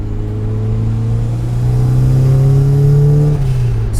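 A turbocharged Mazda Miata engine with a custom exhaust revs up loudly and close by, its droning pitch climbing steadily with turbo spool, then dropping off as the throttle eases.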